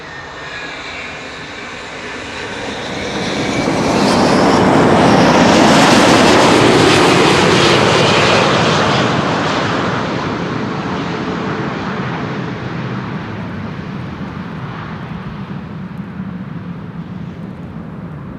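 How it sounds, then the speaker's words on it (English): A four-year-old Delta Airlines jet from Minneapolis arrives at Amsterdam Schiphol, its engine roar swelling loudly as it passes close, then slowly fading into a lingering distant rumble, with no talking. "Delta Airlines Flight 164 arriving from Minneapolis, 7 hours and 39 minutes on the way."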